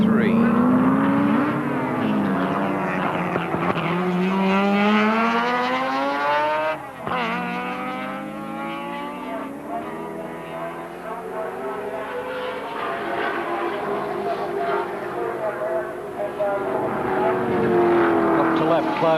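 Holden Commodore touring race cars racing at Symmons Plains in the 1983 Australian Touring Car Championship, engines roaring loudly and continuously with shifting pitch as they pass, a brief dip midway, under ongoing commentary.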